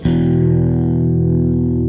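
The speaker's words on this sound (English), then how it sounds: "let's say we're in a clean boost-driven sound" Electric guitar with a clean, boost-driven tone rings out as one sustained chord, struck firmly and left to hold evenly for about two seconds, alone and unaccompanied.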